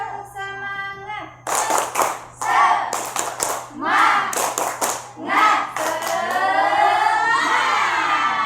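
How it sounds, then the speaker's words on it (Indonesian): An Indonesian school class performs the rhythmic "tepuk semangat" clapping chant, led by the teacher. Bursts of loud clapping arrive in a patterned rhythm while voices chant along, ending in sustained sung or shouted voices. "Ibu awali terlebih dahulu, tepuk semangat."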